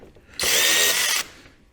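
A power drill whirs loudly and steadily for under a second, driving a screw into the plastic belly pan of a 2023 Ski-Doo Expedition SWT snowmobile, then stops, leaving quiet.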